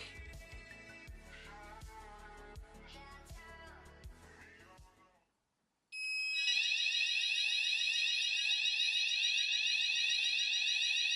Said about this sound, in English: I should go into alarm.